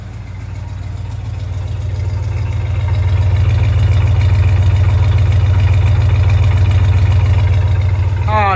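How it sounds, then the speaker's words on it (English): A 1968 Chevelle SS 396's V8 with a newly replaced exhaust idles in a deep, steady throb close by, loud and even, with a brief rising whine at the very end. "Got the exhaust system on. Car's running."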